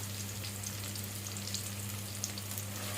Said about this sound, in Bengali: পেঁয়াজটা হালকা হালকা আঁচে একটু ভাজতে থাকি